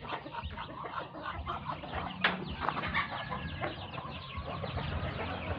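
Ducks and ducklings, including a father duck that is blind in one eye, calling and clucking up close in a continuous busy stream of quacks and chirps, with occasional wing flaps.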